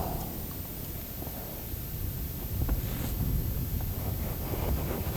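Cold wind buffets the microphone outdoors while bass fishing in Florida, a steady low rumbling roar with gusts swelling louder midway, and no one talking.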